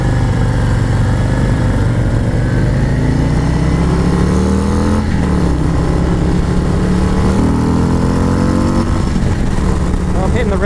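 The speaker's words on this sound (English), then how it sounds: "I like that you still have that kind of rumble that we all love on the Harleys." A 2019 Harley-Davidson Road Glide CVO 117 on a demo ride gives a loud, steady V-twin engine rumble that rises and falls in pitch with acceleration throughout.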